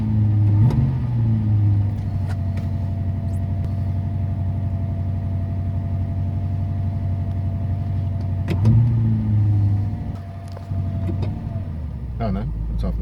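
A Ford XD Falcon V8 with a choke problem idles steadily, holding a constant low rumble close by, with a few brief clunks and a slight change in tone near the end.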